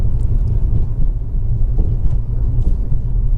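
A 2.0-litre i-VTEC Honda Accord EX automatic cruises along, its low engine and road rumble steady and close throughout, with no voices.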